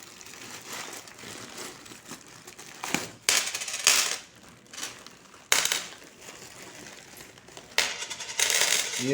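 Copper-nickel 5 and 2 rupee coins are sifted and handled by hand, giving irregular bursts of metallic clinking and jangling that swell and fade, close up and with no talking.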